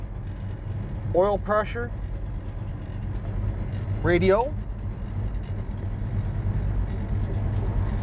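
A 1967 Chevrolet Malibu's engine idles just after starting, a steady low rumble running continuously beneath a man's speech.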